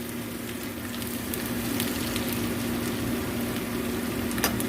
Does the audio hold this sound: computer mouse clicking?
no